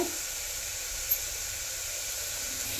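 Vegetables for veg soup frying in a pan, a steady, even sizzling hiss that holds throughout at a moderate level, with no voices.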